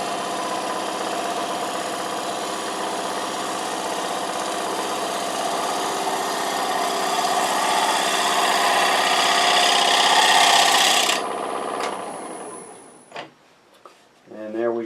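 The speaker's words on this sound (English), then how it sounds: "One of the advantages of this one is just so much faster and easier to sharpen than the bowl gouge." A woodturning scraper is ground on a bench grinder while laid on the tool rest, giving a steady, loud, continuous whirring grind for about eleven seconds before it cuts off and the motor spins down with a few light knocks.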